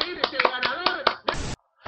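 Quick, uneven hand claps from a small group, crisp and close, running briefly with voices mixed in before cutting off.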